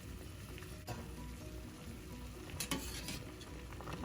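Chicken chopsuey simmers in a pan with a dense, steady bubbling sizzle, broken by a few sharp utensil knocks and scrapes. It is close and even throughout, with no speech.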